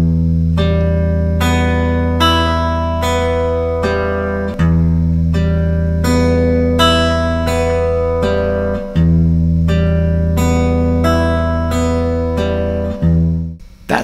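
Fingerpicked guitar arpeggios ring out clearly and alone, individual plucked notes rolling in a steady repeating pattern, the chord shifting every few seconds with sustained overlapping tones.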